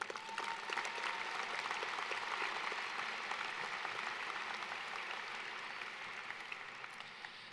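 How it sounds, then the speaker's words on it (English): Sustained applause from the crowd at a high school commencement ceremony: dense, steady clapping that fills the whole stretch with no break, fading only slightly toward the end. "Let's give them a round of applause."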